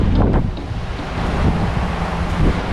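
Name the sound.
strong wind over the sea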